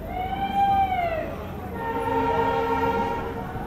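A new broad gauge train departing Himmatnagar railway station sounds a long, rising-then-falling horn blast, followed by a softer, steady horn tone over rumbling rail noise.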